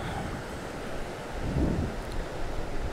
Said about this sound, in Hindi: ऊपर से बारिश हो रही है ये देखें